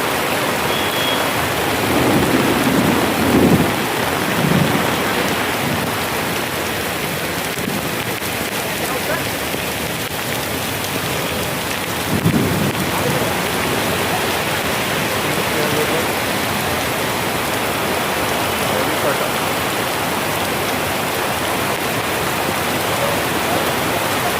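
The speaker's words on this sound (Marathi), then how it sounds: "ही सध्या पावसाची परिस्थिती" Steady heavy rain pours down continuously on Sinhagad Road, Pune, with a faint low rumble of thunder in places; the hiss is dense and constant throughout.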